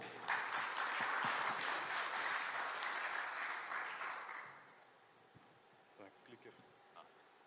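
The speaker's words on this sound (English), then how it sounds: "Your applause." Audience applause greets a startup founder about to pitch at an investor event, a full round of clapping that fades out around halfway, followed by quiet room noise and a few small knocks.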